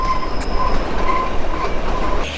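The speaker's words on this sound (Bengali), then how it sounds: "এবার এখান থেকে আজকে জার্নি হবে শিবালিক ডিলাক্স এক্সপ্রেসে কালকা থেকে সিমলা" Shivalik Deluxe Express toy train running on the narrow-gauge Kalka–Shimla railway, a loud continuous rumble of rolling wheels and carriages with a faint steady squeal, heard close from on board with no talk.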